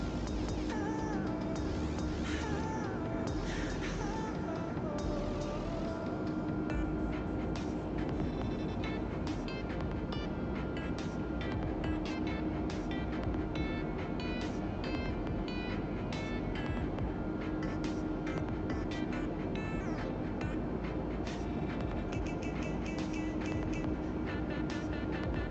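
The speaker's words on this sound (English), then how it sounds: "Can you hear the plane?" A continuous, droning engine hum fills the cabin of a light training airplane cruising over the South Australian coast, steady and loud throughout, with faint music-like tones layered underneath.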